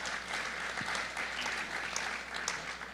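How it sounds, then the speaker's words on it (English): A room of people at a cookbook talk and cooking demo clap together, moderately loud, a continuous mass of overlapping claps that holds steady throughout. "So just give them a big round of applause"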